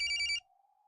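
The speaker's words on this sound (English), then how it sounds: "Answer the phone?" A cell phone rings in the horror game Corpse Party, a short bright electronic trill that cuts off abruptly, leaving a faint lingering tone.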